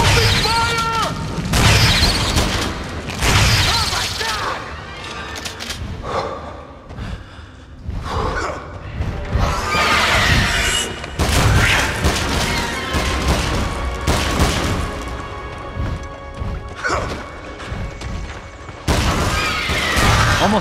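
Gunfire and booming explosions in the King Kong video game on GameCube, a loud continuous barrage of shots and blasts mixed with game voices and shouts over the whole stretch.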